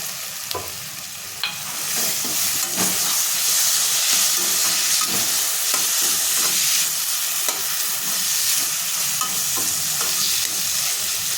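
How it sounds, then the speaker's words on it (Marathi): Washed moong dal sautéing in a pan for dal palak, a loud, continuous sizzle crackling close by, with frequent clicks and scrapes from stirring. "आता ह्याच्यामध्ये मुगाची डाळ आपण जी धुवून घेतलेली आहे ती टाकून घ्यायची आहे"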